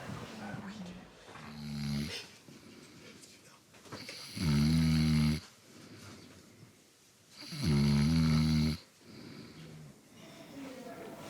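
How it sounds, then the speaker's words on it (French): Climbers sleep in a mountain hut before ascending Mont Blanc, and deep rhythmic snoring rises to two loud rasping peaks between softer breaths, heard close in a quiet room. "Je crois que j'étais optimiste sur les ronflements."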